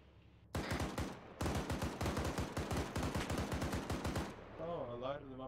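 Rapid automatic gunfire in a military video game rattles out in two dense bursts of many shots, loud and close, then stops and leaves a brief faint tail with a little voice-like sound.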